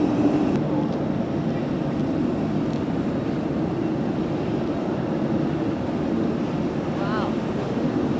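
An airplane lands at Paro airport in Bhutan, its loud, steady roar of engine and rushing air filling the whole stretch without letting up.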